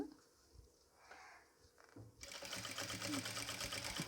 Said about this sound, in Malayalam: സ്റ്റിച്ച് ചെയ്ത് പോരുന്നു കേട്ടോ